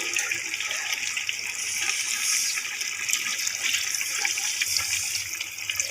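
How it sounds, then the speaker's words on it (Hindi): Water is poured into a pan of potatoes and fenugreek, a continuous splashing pour that stays steady and fairly loud for several seconds, with no talking over it. "अब हम इसमें डालेंगे पानी"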